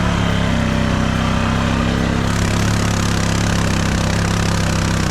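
A Polaris 6x6 off-road vehicle churns through thick mud, its engine a loud, steady, close-up drone with a buzzy, throbbing tone that holds without a break.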